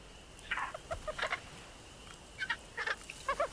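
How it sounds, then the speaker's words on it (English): A dodo bird in Ark Survival gives short clucking, gobbling calls in quick bursts, some in pairs and triplets, fairly faint against quiet background noise. "have found ourselves a dodo bird"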